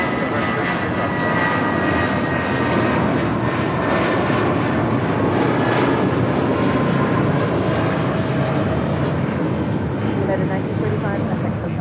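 Delta airliner coming in to land at Los Angeles International Airport, a sustained, broad engine roar that stays loud and steady throughout, with voices talking over it.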